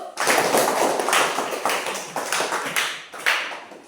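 A group claps for a few seconds, a dense burst of hands clapping that swells and dips a little, fairly close and without talk.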